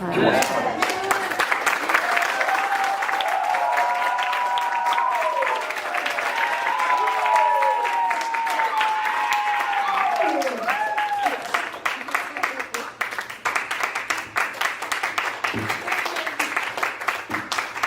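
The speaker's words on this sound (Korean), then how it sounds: "항상 오실 때 큰 박수로 환영하십시다." A congregation at a fall revival service gives the arriving preacher a big welcoming round of applause. The steady clapping runs alongside loud talk and music-like tones, and it thins out toward the end.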